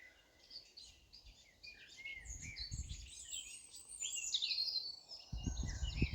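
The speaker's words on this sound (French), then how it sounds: "Écoutez, les oiseaux." Birds chirp and sing outdoors during a holiday outing, several bright overlapping calls at moderate distance, with low rumbling handling or wind noise underneath.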